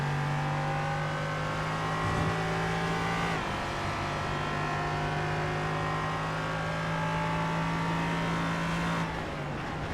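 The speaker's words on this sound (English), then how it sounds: "First driver to take us to car racing here, the LMP3 class." An LMP3 prototype race car screams along in a sim racing game at Canadian Tire Motorsport Park, its engine holding a loud, steady high-rev whine with brief gearshift dips, no voices over it.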